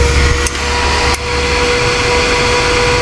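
The cooling blower of an ES-351S welding machine running after repair, a loud steady whirring hum with a constant tone, briefly dipping twice early on and then holding evenly.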